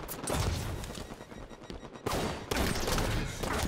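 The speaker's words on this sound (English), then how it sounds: "Is someone really trying to shoot from the assault rifle?" Assault rifle fire in a Halo multiplayer match on Hang 'Em High, rapid sustained bursts of automatic gunshots, with sharper, louder volleys near the end, no talking.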